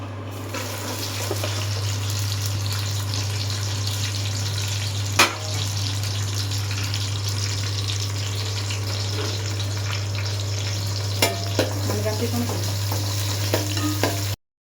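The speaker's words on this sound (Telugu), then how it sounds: "జీలకర్ర, ఆవాలు, మెంతులు వేసుకొని అవి నూనె కొంచెం వేడెక్కాక ఉల్లిపాయలు, పచ్చిమిర్చి వేసుకోవాలి." Onions and green chillies fry in hot oil with cumin, mustard seeds and fenugreek, giving a steady close sizzle with a few sharp clinks of stirring.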